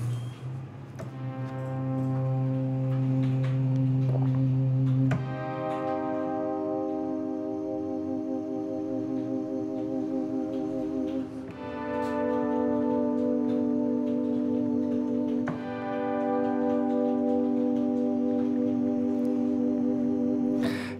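Synth pad in DRC shaped with delay wobble, reverb and chorus, sustaining wide layered chords that change every few seconds at a steady, moderate level, with no talking.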